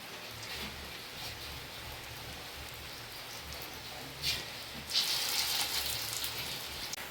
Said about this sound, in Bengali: সব বড়াগুলো আমি এইভাবে ভেজে নেবো